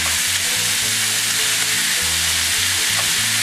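Steady, continuous sizzling of peppers and onions frying in a hot pan, close by, with faint stirring underneath.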